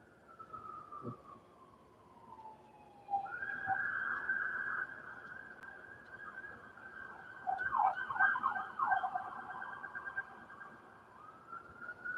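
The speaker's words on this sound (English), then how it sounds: "There's an ambulance." An ambulance siren wails, its tone falling away and then rising and holding steady, fairly faint and somewhat distant, with no talking.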